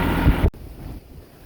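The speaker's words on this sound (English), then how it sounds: "the wind's blowing about 50 miles an hour" Strong wind, roughly 50 miles an hour, buffets the microphone across an open field, a loud low rumble that cuts off abruptly and drops to a softer, steady blowing.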